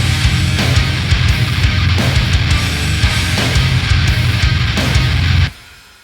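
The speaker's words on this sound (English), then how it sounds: "I want to show you how you can combine the blown out wall saturation effect with a high gain amp." Baritone guitar driven through a Blown Out Wall saturation plugin into a high-gain amp, heard within a full mix as a loud, dense wall of distorted chugging with steady drum accents that cuts off abruptly near the end.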